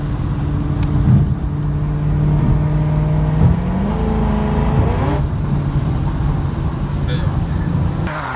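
A small street racer car accelerating past on a road in LA, its engine note rising in pitch under steady traffic and road noise, with someone talking over it from inside another car.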